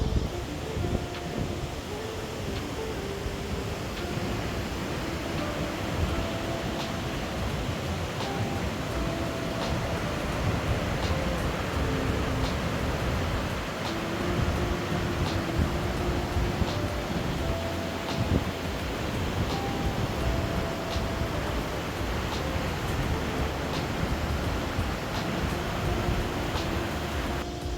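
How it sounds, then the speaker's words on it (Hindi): Broadband rushing water, steady and continuous, from a river flowing through the valley at Harshil, filling the whole scene at close range with no talking over it. "ये नदी की आवाज़ है।"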